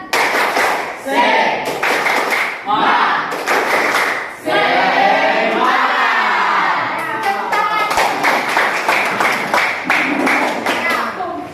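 A school class does a rhythmic spirit clap in unison, claps and thumps in quick patterned bursts broken by short pauses, with children's voices mixed in between the rounds.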